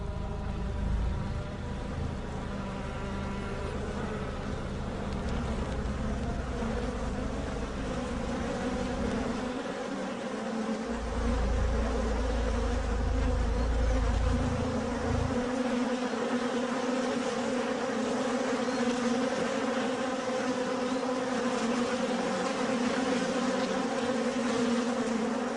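A swarm of honey bees hums inside the hive in a dense, continuous buzz, steady and close throughout, with a low rumble swelling briefly in the middle.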